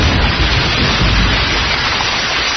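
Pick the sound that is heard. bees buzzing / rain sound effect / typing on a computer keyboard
rain sound effect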